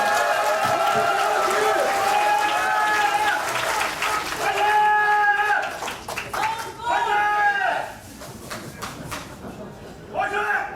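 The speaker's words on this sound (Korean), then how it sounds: "뜨거운 박수로 부탁드리겠습니다" Crowd applause and cheering at a Democratic Party joint campaign rally in South Chungcheong, with loud, dense clapping that rises and falls while a voice and some shouts carry over it through most of the stretch.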